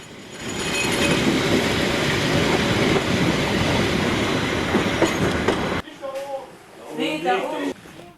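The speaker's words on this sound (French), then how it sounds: "Le premier train du matin en provenance de Genrode entre en gare." Steam locomotive 99-5906 hauling the first morning train from Gernrode into a Harz narrow-gauge station, a loud sustained rumble with clattering wheels for about six seconds, then it stops and people talk nearby.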